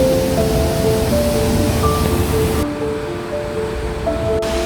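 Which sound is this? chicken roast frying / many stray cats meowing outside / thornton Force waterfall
thornton Force waterfall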